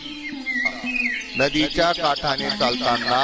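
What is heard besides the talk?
birds chirping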